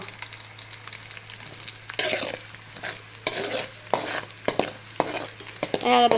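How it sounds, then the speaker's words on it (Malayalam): Green chilli and ginger sautéing in oil for an amla pickle, a soft sizzle broken by repeated scraping strokes of a spoon across the pan at irregular intervals, close and alone. "ഇനി പച്ചമുളകും ഇഞ്ചിയും പച്ച ഇടാം കേട്ടോ എന്നിട്ട് ഇത് നന്നായിട്ടൊന്ന് മൂത്ത് വരട്ടെ"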